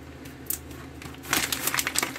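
Crinkling plastic from an MRE flameless heater bag being folded and sealed, with a few sharp rustles early on and then a denser burst of close crackling near the end.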